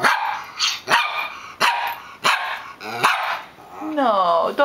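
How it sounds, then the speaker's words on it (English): A pet dog barks five or six times in sharp, close bursts spaced about a second apart, ending in a higher drawn-out whine, with no talking over it. "No, don't bark."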